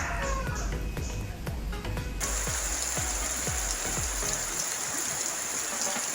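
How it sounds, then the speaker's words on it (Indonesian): Heavy rain beats steadily on a fish pond and its surroundings at Keranggan, Cibubur, a dense continuous hiss of drops on water with soft low patters, and the downpour suddenly grows louder and brighter partway through. "Nah, kembali hujan lagi di sini ya, karena curah hujannya tinggi di daerah Keranggan Cibubur."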